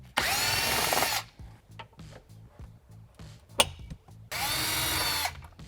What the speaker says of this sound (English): We're gonna grab a size 40 Torx and take these out up front.